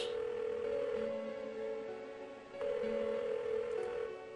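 Repeating telephone ring-back tones in Persona 4, a steady electronic tone pair that sounds, pauses and sounds again, clear and alone with no talking.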